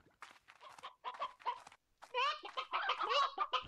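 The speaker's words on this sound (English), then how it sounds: "Chicken, chicken, chicken." Clucking chickens in the farming video game Slime Rancher, a run of short, choppy bird calls that grows busier and denser in the second half, fairly close and alone with no talk over them.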